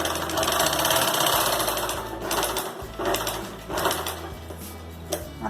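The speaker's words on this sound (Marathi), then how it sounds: "आता आपण शिलाई मारणार आहोत" A sewing machine runs in steady bursts, stitching around all four sides of a fabric pouch lining, its motor whirring continuously with brief pauses and restarts, loud and close with no voices.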